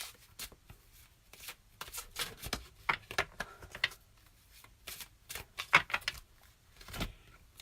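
Oracle cards being shuffled by hand, a quick run of crisp papery riffles and soft slaps with brief pauses between bursts, close and moderately quiet with no talking.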